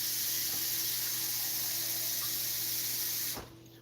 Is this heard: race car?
no